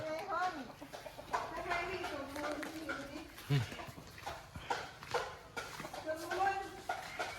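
Chickens cluck and squawk nearby amid a busy farmyard, with people talking over them.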